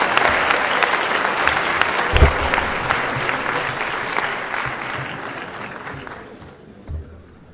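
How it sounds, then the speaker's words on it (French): Sustained, dense applause from an audience at a law faculty awards evening in Toulon, loud and continuous before thinning out and fading near the end. "je pense qu'on peut l'applaudir"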